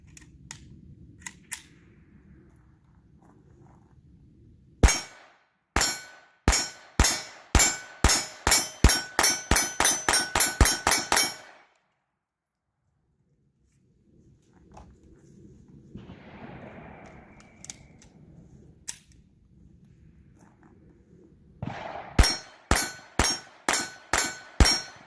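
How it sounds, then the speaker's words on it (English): Rapid strings of sharp Taurus TX22 .22 pistol shots ringing off a steel plate target outdoors, several bursts of evenly spaced cracks with metallic pings, separated by quiet pauses. "this first magazine here, I'm going to start out on my steel plate here, just to get familiarized with it"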